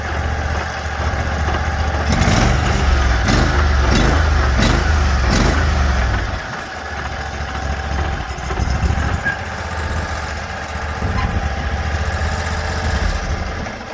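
Small single-cylinder engine of a Sears Suburban 6HP garden tractor runs steadily up close, loud and continuous with a low chugging drone, a brief dip in load midway, then settles back to a steady idle-like run.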